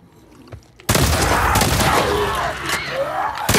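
Loud, dense gunfire from The Last of Us Part II erupts after a quiet moment and keeps going as a close, sustained barrage of rapid shots and booms.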